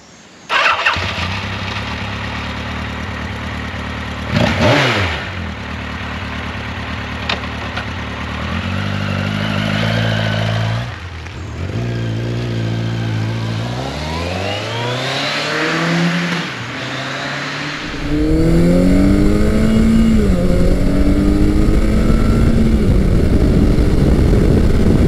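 A 1986 Yamaha FJ1200 motorcycle engine cranks, catches and idles, then revs up through rising gear changes before settling into a loud, steady roar as the bike rides along an open road, with no talking.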